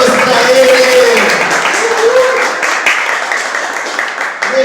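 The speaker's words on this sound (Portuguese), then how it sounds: "Palmas para ele!" Lively applause from the audience at a book launch, a dense patter of many hands slowly fading, with a voice speaking and singing over the clapping.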